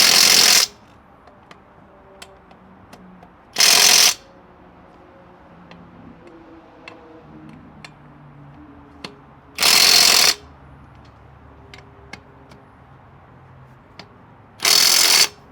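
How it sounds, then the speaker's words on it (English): An impact gun snugs the lug nuts on a wheel of a barn-found Chevelle, firing four short, loud rattling bursts spaced several seconds apart, with a quiet shop in between. "So snug them with the gun and then go around and make them tighter"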